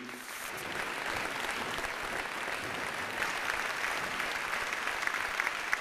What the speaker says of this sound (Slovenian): mislim, da mu lahko date še zdaj en aplavz